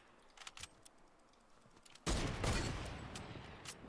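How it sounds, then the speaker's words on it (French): Gunfire in Fortnite: faint clicks and light keyboard taps, then a sudden burst of rapid shots that stays loud for a moment before tapering into scattered pops, with no talk. "Je tire sur les gens de la montagne pour info"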